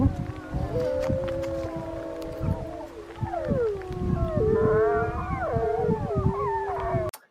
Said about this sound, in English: this next one is wolves actually howling back at us.